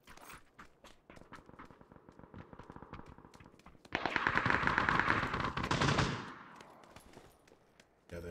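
Rapid PUBG gunfire in a duo match: steady crackling bursts of shots at moderate distance, swelling into a louder, denser barrage midway, then thinning out before a final shot.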